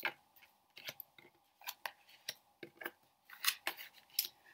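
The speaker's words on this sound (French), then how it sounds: "Donc là, vous retournez vos cartes." Tarot de Marseille cards flipped over one by one onto a table, making a series of short, crisp snaps and soft slaps spread irregularly over a few seconds in a quiet room.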